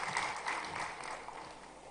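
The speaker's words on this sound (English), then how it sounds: "Please give a huge round of applause as we welcome him on the stage." Audience applause welcoming the founder and CEO of 91 Film Studios onto the stage at the Umagine 2025 tech event, a steady, dense wash of clapping that stays fairly even and moderately distant throughout.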